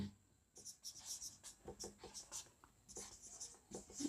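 Pen or pencil strokes scratching across paper as a teacher writes out class notes, a series of short, quiet, scratchy bursts with brief pauses between them.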